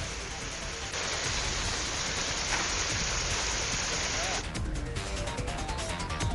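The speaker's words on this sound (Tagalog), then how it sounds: "dahil sa lakas ng ulan, lagpas tao na raw ang taas ng tubig ngayon" Heavy rain pours over flooded city streets during a storm, a steady loud broadband hiss filling the whole clip with no break.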